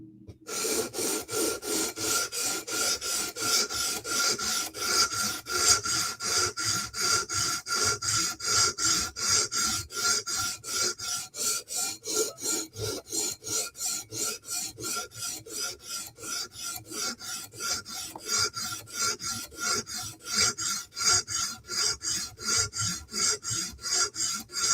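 A Spyderco knife blade is stroked across a sharpening stone in steady, rhythmic rasping passes, close and loud. The scraping strokes repeat at an even pace for the whole stretch, with no voices.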